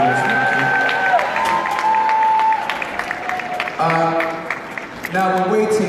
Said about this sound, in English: Can you please give them all a massive round of applause?